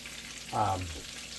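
Bacon fries in a pan for a double bacon cheeseburger with a steady, soft sizzle. A brief tonal squeak rises out of it midway.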